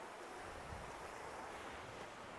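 Gentle, calm sea waves lap at a beach in Phú Yên, heard as a soft, steady wash of surf that stays faint and even throughout, with no voices.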